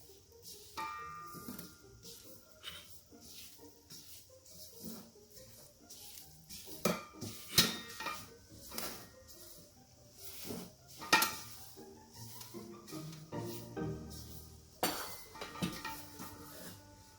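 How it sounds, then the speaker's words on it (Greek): Sugar-free cookie dough being mixed in a bowl with corn oil and sunflower oil, a spoon scraping and clinking against the sides in irregular, fairly close strokes, with no one talking. "Το λάδι, αραβοσιτέλαιο και ηλιέλαιο. Ανακατεύουμε."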